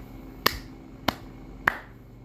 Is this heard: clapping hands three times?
yes